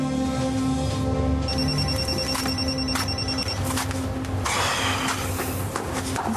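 A telephone rings at home in a soap-opera scene, a steady electronic trill repeating over a dense bed of background music and room noise. The ring sits mid-level, partly masked by the score.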